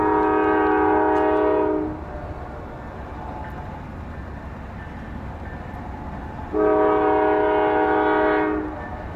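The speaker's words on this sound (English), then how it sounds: "Got a westbound CN coming here in Waterloo, Iowa." A CN freight train's horn blasts a long sustained chord, cuts off, then sounds again after several seconds, with the steady rumble of the passing westbound train, led by NS locomotives in Waterloo, Iowa, beneath.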